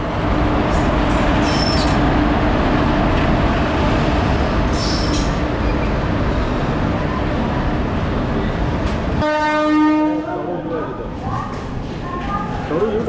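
A train arrives at a station on the way to Mumbai, a loud, steady rumble of wheels on rails filling the scene, ending with a harmonic squeal or horn-like tone near the end.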